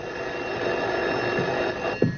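A telephone rings with a steady electronic trill for about two seconds, moderately loud indoors, ending with a brief thump. No one speaks.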